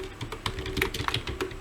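Fingers tap out a quick, uneven burst of keystrokes on a computer keyboard, close and clear with no talking, lasting under two seconds.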